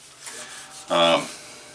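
A dyed leather holster edge is burnished by hand, with soft rubbing strokes followed by one brief, louder squeaking rasp of friction close by.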